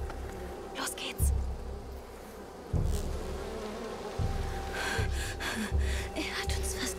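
Swarm of bees buzzing in the video game A Plague Tale: Requiem, a steady drone with repeated low thumps and occasional gasps and breathy sounds over a continuous hum.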